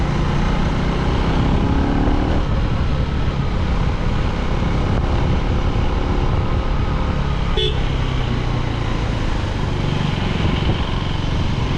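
A motorcycle engine pulls steadily in third gear up a mountain hill road on the way to Munsyari, running loud and continuous with road and wind noise around it and one brief horn-like tone partway through.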